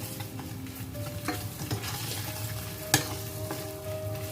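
A tomato fries in a pan for a Cameroonian tomato sauce, with a steady close sizzle, occasional stirring scrapes and a sharp knock near the middle, and no voices.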